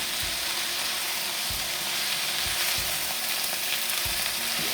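Chicken and vegetables stir-frying in a pan, a dense continuous sizzle with soft periodic knocks and scrapes from stirring, close up and steady throughout.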